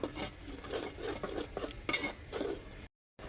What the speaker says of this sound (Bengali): এগুলো একটু ভালোভাবে মিশিয়ে নিব।